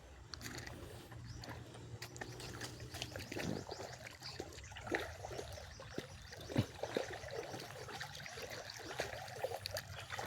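A small river stream runs steadily in the background, a faint continuous trickle and wash with scattered light clicks and rustles from nearby movement, and no talk over it.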